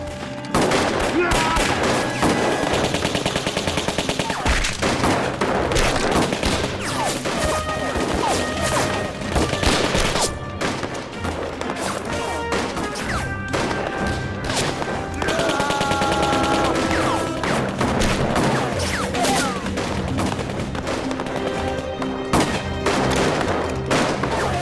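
Rapid gunfire from a battle ambush on Japanese troops, bursts of automatic fire and scattered shots crackling loud and dense throughout, with brief voices shouting under the din.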